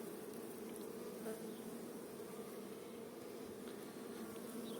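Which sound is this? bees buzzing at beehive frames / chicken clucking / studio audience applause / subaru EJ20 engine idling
bees buzzing at beehive frames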